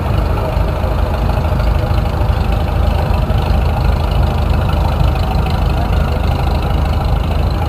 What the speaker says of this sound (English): Next up we have Mary Pope on a 1957 Farmall 350.